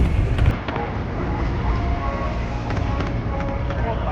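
Cluster grenade explosions in a shooter video game, a dense rolling crackle of blasts that sounds like fireworks, with a sharp burst near the start and a continuous rumble under players talking.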